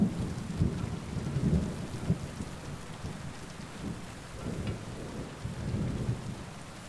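Steady rain pours in a thunderstorm inside the medieval game Kingdom Come: Deliverance II, with low rolling rumbles of thunder swelling and fading beneath the constant hiss of falling water.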